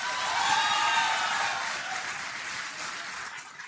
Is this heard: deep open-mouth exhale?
no